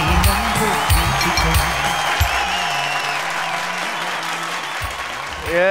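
An audience at a television show claps in loud, sustained applause with a few cheers, mixed with music and speech at the start before the clapping carries on steadily.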